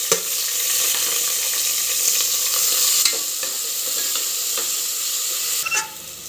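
Onions and green chillies fry in a pan with a steady, bright sizzle, punctuated by occasional scraping stirs, close and continuous without any talking.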